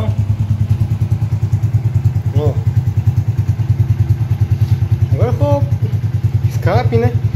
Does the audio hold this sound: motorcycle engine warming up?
yes